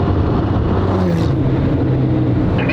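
A Porsche car rumbles past close by, with a steady engine roar throughout and no talking.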